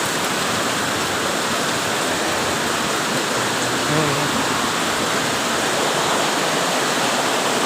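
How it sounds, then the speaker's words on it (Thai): Heavy rain pouring down at a rural home in Nong Don, Thailand: a dense, continuous hiss of rainfall, loud and unbroken throughout, with a brief faint voice buried in the roar. "ไงฝนก็ตกหนัก"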